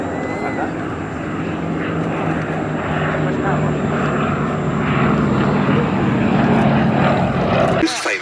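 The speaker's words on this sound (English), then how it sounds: "Chief Engineer, Jean-Michel Munn, behind the controls of the Gladiator." A Gloster Gladiator biplane flies a display at the Duxford Battle of Britain airshow, its radial engine droning steadily and swelling somewhat louder toward the end, with an announcer speaking over it.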